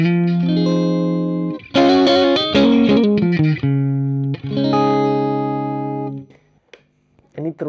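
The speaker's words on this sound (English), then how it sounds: "Because the amp reaches this edge of breakup sound that is really" Electric guitar through a Peavey Classic 20 tube amp with the power tubes cranked to the edge of breakup, playing a run of chords and single-note phrases that ring and decay, loud and close, before a short pause.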